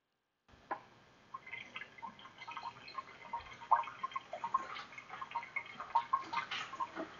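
Fuel pours through a repaired filler neck into a car tank, faint close trickling and dripping with irregular ticks and splashes building after a short silence.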